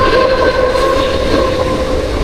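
A Mumbai local train on the Panvel line rumbles past steadily and loudly, a continuous roar of wheels and cars with sustained tonal whine throughout, no voices.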